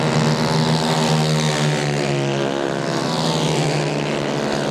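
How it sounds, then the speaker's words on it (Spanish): Several 150cc racing kart engines roar steadily along the main straight of a kart track, a dense, continuous buzzing drone that stays loud and close throughout with no talk. "nosotros vamos a escuchar los motores 150 centímetros cúbicos"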